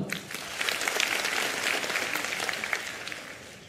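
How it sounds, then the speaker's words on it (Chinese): Dense applause from a large live audience at a Cantonese stand-up comedy show, steady clapping filling the hall for a few seconds with no speech over it. "听过嘅又拍拍手。"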